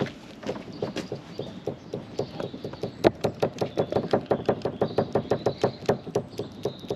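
A rapid series of sharp metallic knocks from a worn anti-roll bar bush on an ERF truck, close by, building into a steady rhythmic clatter, like a loose part being rocked back and forth.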